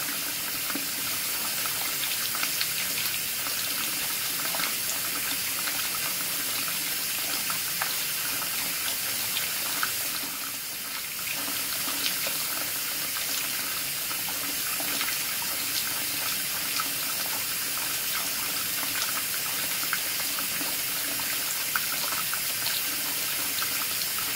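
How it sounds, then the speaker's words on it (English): Hot water runs steadily from a faucet fed by a Rheem RETEX-18 tankless electric water heater at full flow, a constant hissing gush with one brief dip midway, no voices. "even at full water coming out of the faucet"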